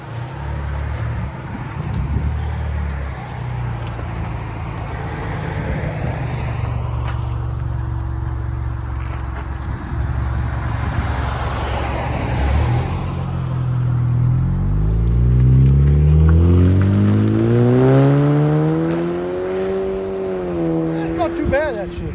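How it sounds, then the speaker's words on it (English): A 2019 Chevy Malibu with a 1.5L turbo four-cylinder and muffler delete idles with a steady low rumble, then revs up in rising and falling sweeps toward the end, loud and close. "2019 Chevy Malibu, 4-cylinder turbo, muffler delete."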